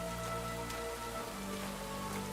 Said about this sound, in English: pretty and rainy